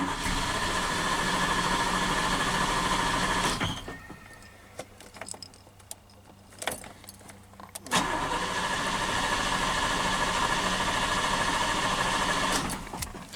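A Taylor Vmax engine, fitted to a car converted from automatic to manual, idles steadily and loudly up close. It cuts out for about four seconds midway, restarts, then keeps running with no one speaking.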